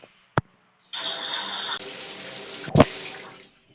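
Shower water in a short horror video game map switches on and runs in a steady, close hiss, bracketed by sharp clicks and a thump, then fades out; no one talks.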